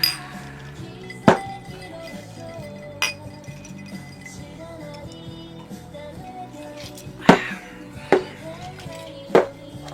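Glasses clink together in a toast, several sharp separate clinks spread over a few seconds over a low room hum and background noise.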